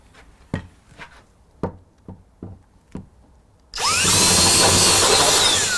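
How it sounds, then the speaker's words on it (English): A 19mm drill bit boring a hole for a door lock barrel on a multi-point lock: several scattered knocks and taps first, then the drill bursts in loud and steady, grinding continuously up close. "So I'm going to drill the hole."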